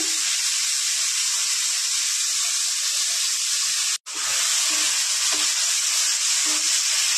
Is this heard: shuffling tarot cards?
no